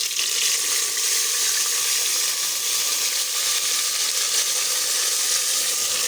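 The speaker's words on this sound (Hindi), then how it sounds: "और इसको हम फ्राई करते रहेंगे।" Ground paste of onion, tomato, ginger, garlic and green chilli frying in hot oil for beef paya, giving a steady, even, close sizzle throughout with no talk.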